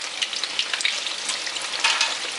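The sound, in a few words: chicken deep frying in oil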